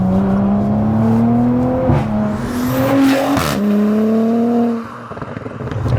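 An Audi B9 S5 with a hybrid-turbo V6 revs hard and close through several rising pulls, each climbing in pitch before dropping back, with a sharp crackle between pulls and a quieter idle at the end.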